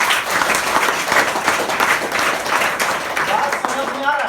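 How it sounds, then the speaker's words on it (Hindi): An audience at a DXN product meeting in Patna breaks into brisk, steady applause, a dense, loud round of clapping lasting a few seconds. "तो कैसा ताली होना चाहिए"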